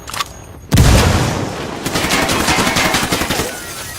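In Ghost Recon Wildlands, a frag grenade goes off with a heavy close boom, followed by a burst of rapid gunfire rattling for a few seconds before it tails off. A short sharp sound comes just before the blast.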